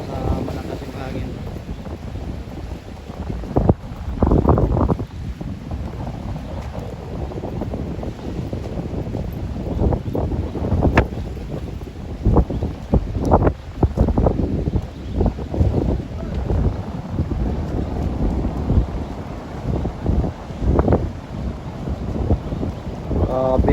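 Strong northeast amihan wind blasts over the open sea, buffeting the microphone in loud, gusty roars with waves underneath, while people talk intermittently.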